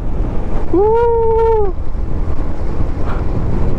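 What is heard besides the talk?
ocean waves with wind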